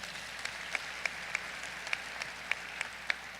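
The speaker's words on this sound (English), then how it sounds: "Give them a round of applause as well." Applause from a university spring commencement crowd honoring faculty and staff: a soft, steady wash of distant clapping with a few louder, regularly spaced individual claps standing out close by.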